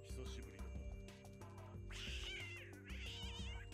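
A cat meows loudly and insistently, a couple of drawn-out yowls close by, with people talking in the background.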